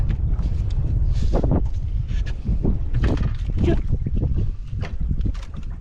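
Strong northeast monsoon wind batters a fishing boat at sea, giving loud, continuous low rumbling gusts across the microphone, with voices talking intermittently under the roar.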